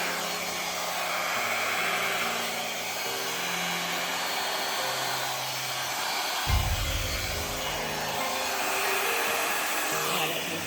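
A hair dryer blowing paint off the top of a pearl maple leaf, a steady close whooshing roar that holds loud throughout, with slight shifts in pitch as the airflow moves over the piece.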